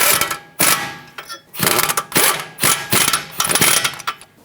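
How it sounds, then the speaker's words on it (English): A wrench or ratchet on a 21mm socket tightening a front strut mounting nut on a 2013–2020 Nissan Pathfinder, giving repeated sharp metallic clicks and clanks in uneven bursts, close and moderately loud. "Hold the bolt and get your 21mm socket on the mounting nut."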